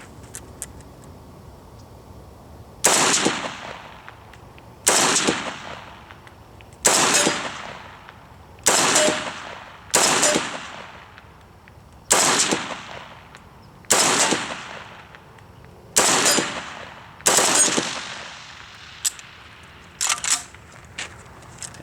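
An RPK-74 light machine gun fires about nine sharp, loud bursts at a foggy outdoor range, spaced every couple of seconds, with a shorter burst at the end.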